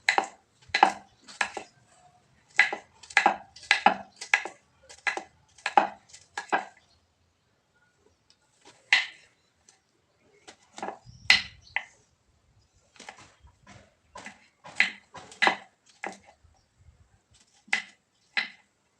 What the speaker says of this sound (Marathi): अशा पद्धतीने मी सगळा भोपळा चिरून घेते